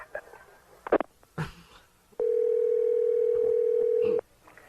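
After a telephone call is cut off, a steady dial tone sounds for about two seconds following a couple of brief clicks and handling noises, loud and close, with no talking.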